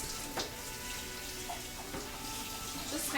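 Water runs steadily from a kitchen tap as something is quickly rinsed under it, a constant rushing hiss with a few small splashes and clinks.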